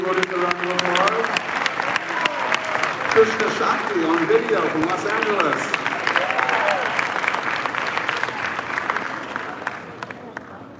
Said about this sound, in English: Let's give these two devotees a round of applause.